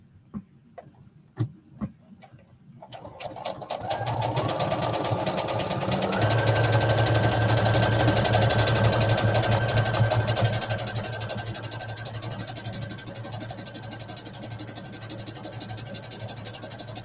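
Sewing machine running steadily while stitching jacket fabric, a continuous mechanical whir with a rhythmic ticking that starts after a few clicks and carries on for over ten seconds before slowing.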